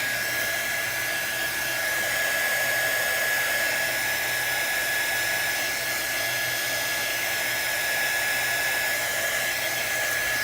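A hair dryer drying a freshly painted distressed flag, blowing as a steady, loud, continuous whine with a constant pitch throughout and no voices.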